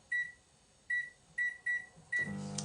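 A microwave oven rated at 900 watts, heating a salmon curry in a plastic pressure cooker, hums quietly in a kitchen while a short electronic beep repeats several times. A louder whirring rise starts near the end.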